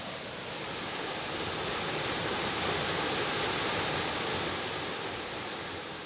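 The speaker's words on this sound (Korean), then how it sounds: "멀리서 거센 물소리가 들려옵니다" Okgye Waterfall in Yeongdong, Chungbuk, a steady broadband roar of water pouring down into a valley, continuous and loud, swelling slightly in the middle, with no voices.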